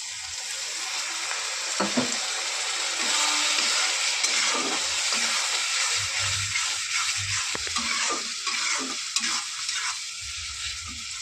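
Spices for a tarka dal sizzle steadily in a pan while a spoon stirs and scrapes them in repeated strokes, close up with no talk.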